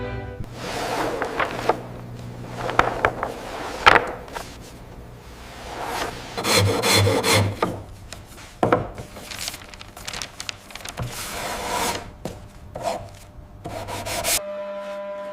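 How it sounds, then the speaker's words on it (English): Hand tools work a hand-built 1937 Bugatti 57 SC instrument panel, with a file and sharp chisel shaping gauge openings: irregular close scraping and rasping strokes in uneven bursts, with brief pauses between them, and no talk. "A sharp chisel and file are used to ensure every gauge fits its bezel precisely"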